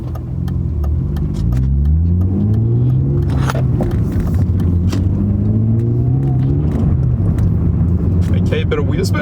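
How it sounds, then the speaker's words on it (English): A BMW E36 car accelerating with a bit of wheel spin, its engine note rising and falling in loud revving sweeps close by, with people talking over it and a brief sharp burst near the middle. "bit of wheel spin"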